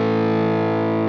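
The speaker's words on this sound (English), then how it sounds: "That distortion is really even" Electric guitar through a Wampler Hot Wired v2 distortion pedal, stacked with a compressor, holds one thick, evenly sustained distorted chord for about a second with no feedback, loud and alone.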